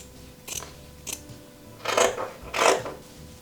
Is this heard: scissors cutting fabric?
yes